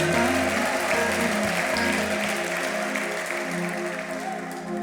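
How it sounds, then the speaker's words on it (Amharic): Loud, continuous applause from a worship congregation at a gospel service, with a dense crowd wash and likely ululation, sustained throughout. "እልልታ ጭብጨባ ለጌታ ከፍ አድርጉና"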